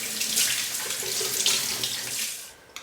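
A sardine is rinsed under a running kitchen tap, giving a close, steady hiss and splash of water for a couple of seconds before the flow cuts off abruptly.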